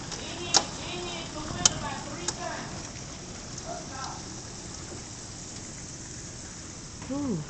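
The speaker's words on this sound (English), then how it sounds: "Look at the hail hitting the roof." Hail patters on a window and roof during a storm, a faint steady rattle with a few sharper hits, while people talk quietly.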